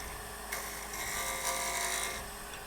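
A lathe tool cuts very dry cherry wood with twisted grain, producing a steady, close, broadband scraping hiss that swells slightly in the middle of the cut.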